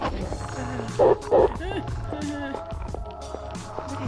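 Dogs bark in a horror video game, two loud sharp barks close together near the start, with yips and scrambling running sounds beneath excited talking.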